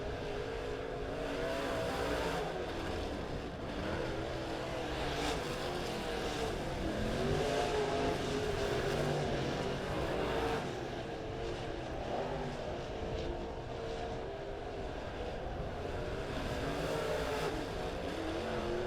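Race cars circling a quick quarter-mile dirt oval at Springfield Raceway during a heat race, running single file, their engines making a steady, continuous roar at mid distance with no talk over them.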